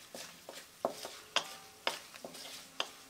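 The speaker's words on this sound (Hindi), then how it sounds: "धनिया भी अच्छे से भून रहा है।" Coriander, garlic and chillies roast in a pan, with a soft sizzle and a series of sharp spoon scrapes and taps against the metal at an irregular rhythm, close and fairly quiet.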